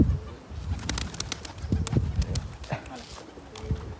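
Pigeons coo and flutter close by over steady background noise, with scattered sharp taps and rustles while people talk.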